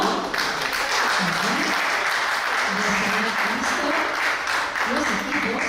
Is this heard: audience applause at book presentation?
yes